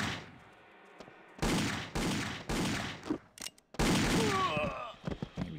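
A pump-action shotgun fires in the Indiana Jones and the Infernal Machine game, with four or five loud, close blasts a moment apart, each tailing off, and a few thinner scraping sounds at the end.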